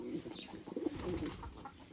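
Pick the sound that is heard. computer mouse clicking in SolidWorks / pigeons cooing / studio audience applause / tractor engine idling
pigeons cooing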